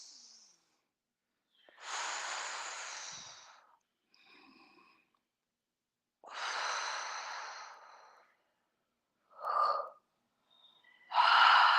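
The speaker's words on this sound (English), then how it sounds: "take a nice deep breath" Deep breaths during a tai chi class, with long airy inhales and exhales repeated several times, close and clear, separated by quiet pauses.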